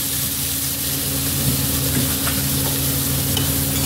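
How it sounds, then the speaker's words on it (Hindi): Bottle gourd frying in oil with cumin and chili in a pan, a steady close sizzle with occasional stirring scrapes, continuous and fairly loud, no talking. "तो उसी में मैंने लौकी डाल दिया। तो लौकी हल्का सा भून लूँगी।"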